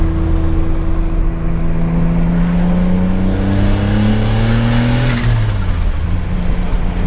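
Turbocharged 2006 Honda Accord with a J32A3 engine and Turbonetics turbo accelerates hard, its loud steady engine note climbing in pitch for about five seconds as boost builds, then dropping sharply on a shift, heard from inside the car.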